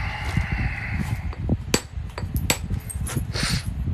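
A hammerstone strikes obsidian, knapping off flakes in a few sharp, glassy clicks and cracks, spaced irregularly over a low background rumble.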